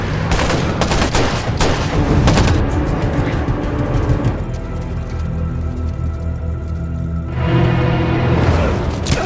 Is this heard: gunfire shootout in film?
yes